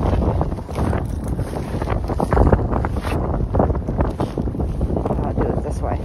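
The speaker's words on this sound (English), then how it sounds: "The friggin' wind." Strong wind gusts buffet the microphone on the frozen surface of Chamberlain Lake during ice fishing, a steady low roar with rumbling bursts throughout, and a voice talks faintly underneath.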